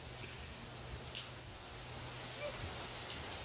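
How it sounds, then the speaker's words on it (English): Steady rain pattering outside around a playful malamute, a soft continuous hiss of falling drops with no distinct individual hits, moderately near and even throughout. "Hey, go play in the rain!"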